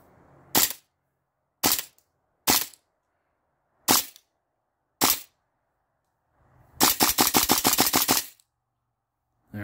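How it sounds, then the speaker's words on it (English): A Cybergun S&T Colt M4 full-metal gas blowback airsoft rifle fires five loud, crisp single shots spaced about a second apart, then a fast rattling burst of roughly a dozen shots, with silence between. "So this is going to be a couple rounds on semi-auto."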